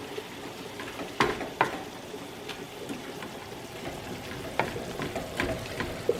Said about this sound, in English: So now we're just going to mix all these spices in